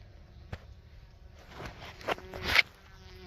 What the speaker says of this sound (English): Man, there's a lot of bees in that box.